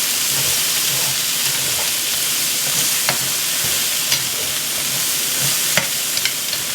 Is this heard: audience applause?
no